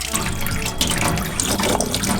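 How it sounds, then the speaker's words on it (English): Filtered cold water runs steadily from a kitchen faucet in a renovated Airstream trailer, a close, continuous splashing stream that holds through the whole stretch. "all the way to the left is clean filtered cold water"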